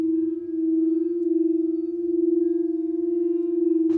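Singing bowls resonate with a steady, sustained pure hum that holds evenly for about four seconds, with faint overtones above it and no talking.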